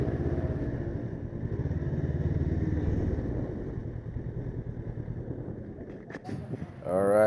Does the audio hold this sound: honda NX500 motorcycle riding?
yes